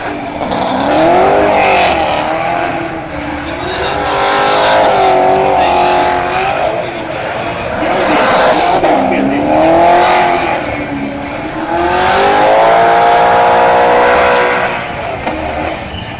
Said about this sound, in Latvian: Aiziet vēl viens brauktās braucējs, Dīcis Kozlovskis ar savu BMW 540 Green Turbo